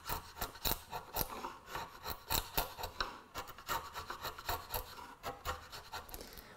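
A small piece of wood chiseled out while building a wooden desk tray, heard as quick, irregular rasping scrapes and taps close by, with no talking.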